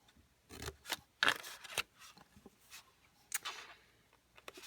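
Scissors cut a square out of a 3x3 note card, giving a few sharp, close snips spaced irregularly, with soft paper rustles between cuts.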